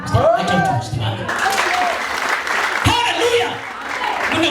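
A church congregation clapping during a sermon, a dense patter of applause under a preacher's voice, which rises and falls as he talks over it.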